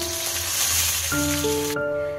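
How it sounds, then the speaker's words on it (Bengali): Hilsa fish frying in oil over low heat, a bright steady sizzle and crackle close up, with a sustained electronic tone running underneath. "আর অল্প আঁচে এটাকে ভাজতে হবে। ইলিশ মাছটা প্রায় ভাজা হয়ে গেছে।"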